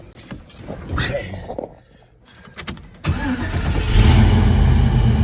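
A 1971 Chevrolet Nova's engine cranks and fires, with clunks and a starter whir followed by a loud rumbling catch that settles into a steady idle.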